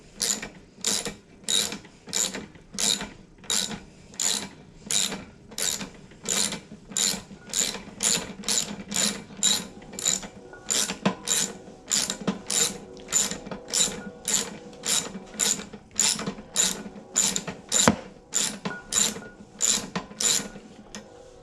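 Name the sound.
ratchet removing 3/8 bolts from Briggs and Stratton carburetor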